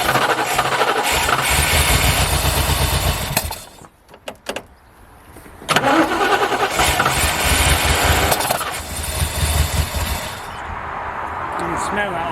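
Rover P6 estate V8 engine, manual, turning over and running roughly after sitting on old petrol, a loud continuous engine drone with a brief drop near the middle before it picks up again; people talk over it.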